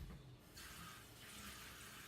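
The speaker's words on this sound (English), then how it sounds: "I'm gonna wet my hands." Water runs steadily from a tap while hands are wetted at a kitchen sink during latke cooking, a continuous close hiss with a brief softer moment near the start.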